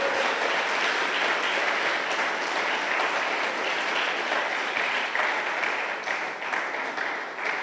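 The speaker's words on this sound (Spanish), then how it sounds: "¿Usted cree que Dios merece un aplauso?" Church congregation claps steadily in a broad, even wash of applause that holds throughout, thinning a little toward the end.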